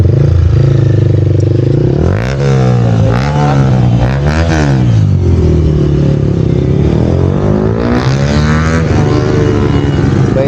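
A motorbike engine runs loudly close by, revving up and down in several surges, with a rough clattering idle throughout.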